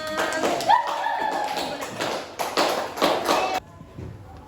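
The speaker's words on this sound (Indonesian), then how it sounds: "Oke, tepuk tangan." Group of students clapping in an Islamic religious education class, a burst of fairly close, dense claps lasting a few seconds with some voices mixed in, then stopping abruptly into quiet room tone.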